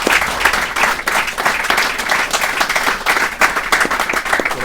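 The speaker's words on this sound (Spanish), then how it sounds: "el otro aplauso que no puede faltar es el aplauso que le vamos a dar a nuestro gran Dios" A congregation at a preaching practice session claps together in a steady, fairly loud burst of applause with audible individual hand strikes, continuing evenly throughout without any talk.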